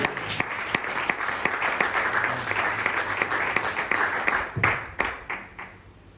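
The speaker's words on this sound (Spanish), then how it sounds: "El que lo crea, que diga amén, y le dé un fuerte aplauso al Señor." A church congregation applauding during a sermon, sustained loud clapping from many people that gradually thins out and fades toward the end.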